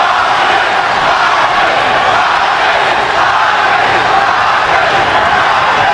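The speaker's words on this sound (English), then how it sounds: "Crowd chanting Marquez, Marquez, Marquez as his supporters try to get him back into the fight" Boxing arena crowd during the first Manny Pacquiao vs Juan Manuel Marquez fight, a dense, loud, continuous roar of massed voices chanting a fighter's name, steady throughout with no breaks.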